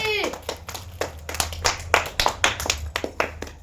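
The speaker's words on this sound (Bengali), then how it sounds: "সবাই হাততালি" Children clap together in quick, uneven bursts for a few seconds, close by and a little ragged, with some voices mixed in.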